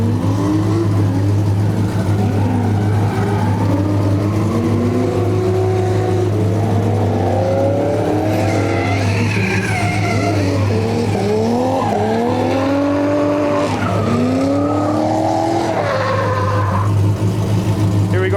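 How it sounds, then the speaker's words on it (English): A V8-powered Nissan 350Z drifts at a grassroots Midwest event, its engine roaring loud and continuous with rising and falling revs and squealing tires, under a steady low drone throughout. "some V8 powered 350Z coming out right now"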